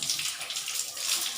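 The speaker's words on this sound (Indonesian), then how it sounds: "Kemudian kita buka keran," A tap opened at a sink for handwashing, running a steady, close stream of water that hisses evenly throughout with no voices over it.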